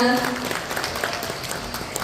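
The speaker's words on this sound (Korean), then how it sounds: "오늘 토론회를 함께해주신 우리 과장님과 패널분들께 다시 한번 큰 박수 부탁드리겠습니다." Brief applause from an audience thanking a department head and panelists at a policy forum, a rough spread of clapping mixed with room noise.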